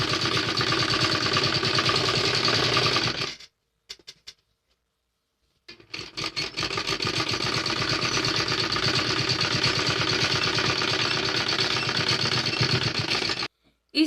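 A sewing machine stitches along the edge of a heavy Patiala salwar, a close, steady, rapid whirring rattle that runs for a few seconds, stops briefly with a few clicks, then resumes for a long continuous stretch.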